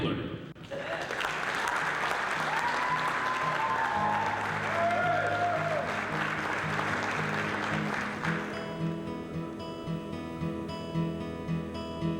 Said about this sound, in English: let's have a big round of applause for competitor number 8, Ray Taylor.